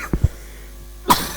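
A man with a cold gives a couple of short, close coughs, then a sharper cough after a brief pause, indoors with no talking.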